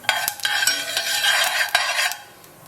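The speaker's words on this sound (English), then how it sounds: "there's the mustard seeds cracking" Mustard seeds crackle and pop in hot oil in a pan for a Bangalore-style rasam, with sharp snaps and a utensil stirring against the pan up close.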